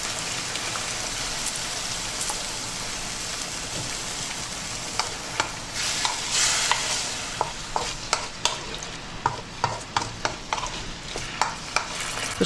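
Vegetables and sausages stir-fry in a wok with light soy sauce, a dense hiss of sizzling oil with brisk, repeated spatula clacks against the metal growing sharper and more rhythmic toward the end, close and loud, no talk.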